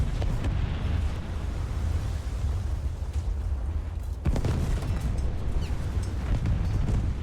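Battleship main guns fire in War Thunder naval combat, a deep rumbling roar with a sharp boom about midway, heavy low-end noise sustained throughout.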